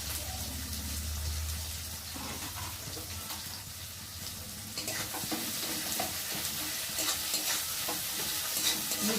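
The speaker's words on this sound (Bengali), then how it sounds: "পেঁয়াজটা ভালো করে ভেজে নেব।" Chopped onions and green chillies sizzle in hot oil in a pan, a steady close frying hiss with occasional stirring scrapes and clatter, with no talking.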